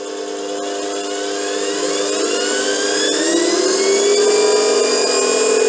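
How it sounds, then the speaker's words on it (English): A belt disc sander linisher motor spins up, a loud steady mechanical whine whose tones climb in pitch as it gathers speed and then runs on evenly. "you can hear the motor kick up, which is over here running happily"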